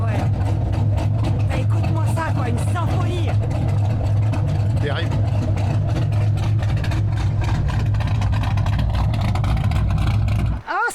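A Dodge Viper GTS engine rumbles loudly nearby with a deep, steady idle and small rises in revs, while people talk over it; the engine cuts off abruptly at the very end.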